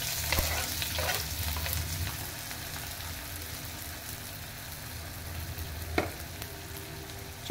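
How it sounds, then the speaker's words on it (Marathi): Chopped onion frying in hot oil for a bitter gourd bhaji, a dense, even sizzle close up with a few light clinks early on and one sharp knock of a utensil near the end. "तेल गरम झालेलं आहे। मी आता एक कांदा कट करून घेतलेला आहे तो टाकते।"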